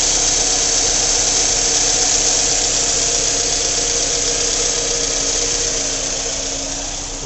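A 2009 Scion xB's 2.4 liter engine with a 5-speed transmission runs steadily at a salvage yard, a loud continuous mechanical drone with a slight squeal, fading a little toward the end.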